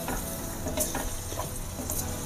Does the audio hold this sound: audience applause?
no